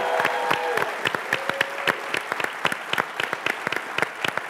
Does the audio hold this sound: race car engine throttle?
no